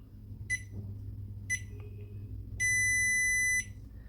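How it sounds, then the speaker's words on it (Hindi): A JK BMS battery management system gives its activation signal: two short beeps followed by one long sustained tone, loud and clear over a low background hum. "2 शॉर्ट बीप, 1 लॉन्ग बीप"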